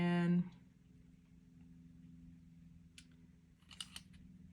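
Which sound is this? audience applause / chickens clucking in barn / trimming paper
trimming paper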